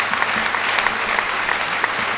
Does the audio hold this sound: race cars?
no